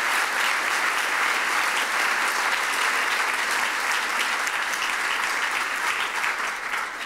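Audience applause after a panel discussion on US-EU privacy, a sustained, dense wash of clapping from a large room, steady and loud throughout with no speech over it.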